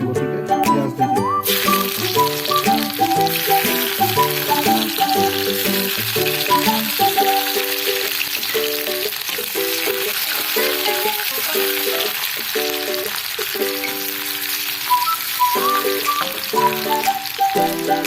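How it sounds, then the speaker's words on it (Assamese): Onions fry in hot mustard oil for a taro stem and dry fish gravy, a constant close sizzle, with a brief loud burst at the start and light clinks and rattles over it. "মিঠাতেল গৰম হ'ব, গতিকে পিঁয়াজ দি দিওঁ।"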